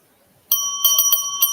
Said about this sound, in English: Hit that bell, Bell.